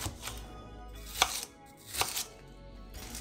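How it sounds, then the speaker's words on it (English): Onions being chopped with a knife, a few separated knife strikes against a board, close and fairly quiet, with no talking. "And you know how much I love cutting up onions."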